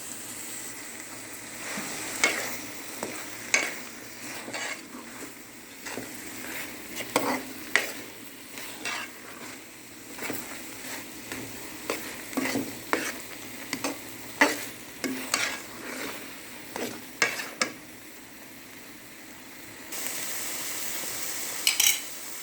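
Thick peanut paste, ground with milk, is stirred and roasted in a pan with desi ghee for chuaray panjiri. A spoon scrapes in steady strokes, with clinks on the pan over a soft sizzle, close and alone.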